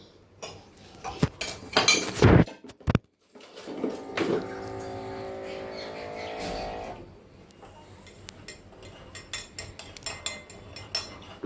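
A spoon stirs lemonade in a glass at a vendor's stall, producing bursts of close clinking and scraping against the glass, then quieter intermittent taps.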